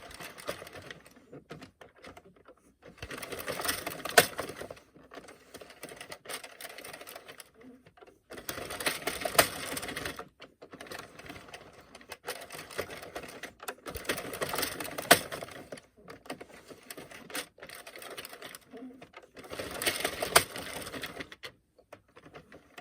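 Circular knitting machine knitting a flat panel: rapid, rattling clicks of needles arrive in repeated bursts of a few seconds each, separated by quieter pauses, at moderate loudness.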